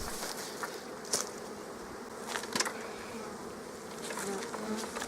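Honeybees in an open hive during an autumn check for emergency queen cells, a dense, continuous buzzing close up with a few louder passes as individual bees fly near.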